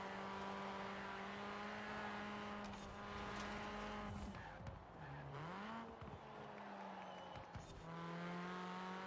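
A race car in a video game drones uphill with a steady, high engine tone that dips and swoops as it shifts gears and brakes, then climbs back to a sustained whine, heard alone at moderate volume.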